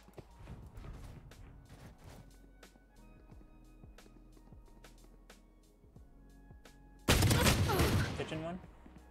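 Gunfire in a multiplayer shooter video game rings out as rapid sharp shots in bursts, with clicks and mechanical reloading sounds between, ending in a loud blast with a rumbling tail; no talk over it.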